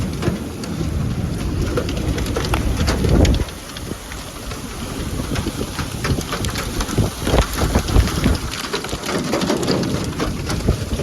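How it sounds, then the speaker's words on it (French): Hail pelts down at Jubba in a dense, steady clatter of countless hard impacts, with a brief louder surge early on before the drumming settles. "C'est de la grêle."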